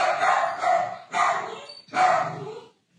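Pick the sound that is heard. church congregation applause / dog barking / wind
dog barking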